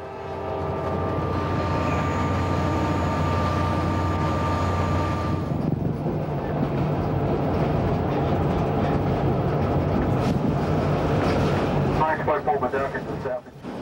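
A train rumbles steadily along the rails with a continuous low drone and clatter, loud and close, sustained throughout.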